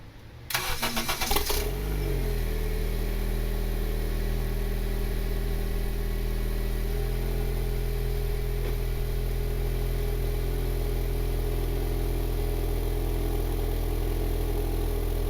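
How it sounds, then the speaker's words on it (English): A Honda Civic R18 engine fitted with a turbo cranks to a cold start, then settles into a steady, rumbling idle heard from the exhaust at the rear of the car. "let's give you guys a cold start from the back"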